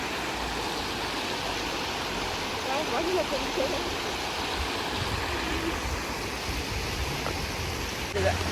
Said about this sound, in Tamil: தண்ணி இது அப்படியே பெரிய குளத்துக்கு போகுது